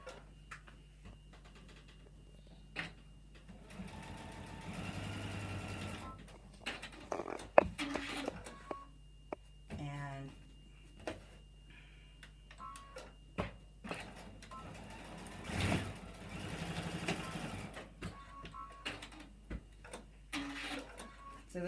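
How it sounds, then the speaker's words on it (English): A sewing machine stitches a folded fabric corner seam with a half-inch allowance, running in short faint bursts of whirring with small clicks and handling noises between them. "So we're going to fold the corner over and sew with a 1/2 inch seam allowance."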